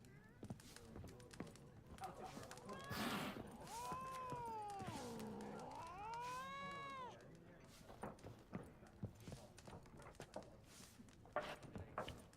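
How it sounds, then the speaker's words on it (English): A cat in The Witcher 3 lets out a long, wavering, drawn-out meow that rises and falls, heard over clip-clopping hooves and footsteps, with scattered game sounds around it. "That cat does not like me."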